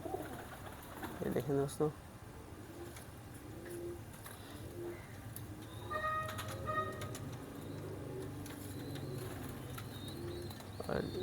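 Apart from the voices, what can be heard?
Teddy pigeons cooing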